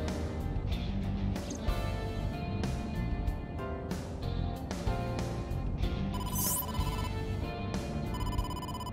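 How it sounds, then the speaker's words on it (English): A phone rings for an incoming call from the boss in a video game, a bright electronic ringtone of repeating tonal chimes that plays steadily and clearly for several seconds with no talk over it. "incoming call from the boss"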